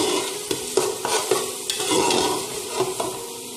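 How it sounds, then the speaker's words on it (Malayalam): Chicken masala is stirred and sautéed in oil in a pot. A close, busy sizzle runs under repeated scraping strokes of a spoon, giving an uneven rhythm of clacks and hissing. "നന്നായിട്ട് ഇളക്കുക. നമുക്ക് എണ്ണ തെളിയണത് വരെ ഒന്ന് വഴറ്റിയെടുക്കാം."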